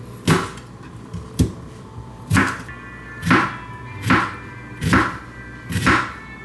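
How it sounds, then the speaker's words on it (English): Fresh dill chopped on a cutting board with a knife, seven distinct thuds at a slow, slightly uneven pace, close and clear with no voices. "I'm just gonna like chop it up into pieces."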